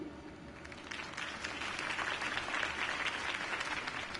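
A crowd applauding at a distance in the video game Batman: The Telltale Series, steady clapping with faint cheering, softly recorded and continuous.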